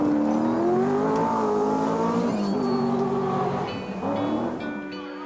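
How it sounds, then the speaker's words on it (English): An SD1 Vitesse rally car roars hard on a rally stage, its engine note climbing and dropping through gear changes, loud and close with tire noise and no talk. "Ken Wood is still thundering onwards in the Vitesse, setting fastest times on a number of stages."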